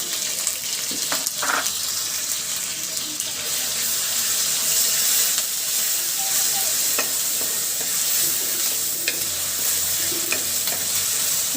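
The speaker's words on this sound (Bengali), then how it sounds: "সবগুলো মশলা পেঁয়াজ মরিচ একসাথে তেলে ভাজি করে নেবো" Spices, garlic and ginger paste, ground cumin, onion and chilli frying together in oil for a chicken curry, a loud steady sizzle with intermittent stirring clicks and scrapes close by, without speech.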